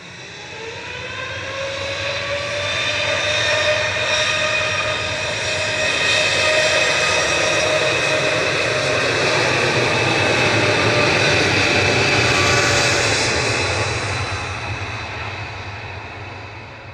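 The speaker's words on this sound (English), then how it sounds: "This is TUI's 2EH, lined up and ready to go on 23 left." A TUI Boeing 787-8 Dreamliner takes off from runway 23 left bound for Palma de Mallorca: a sustained, powerful jet roar with whining engine tones swells, peaks and slowly fades, with no talking.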